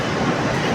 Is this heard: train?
yes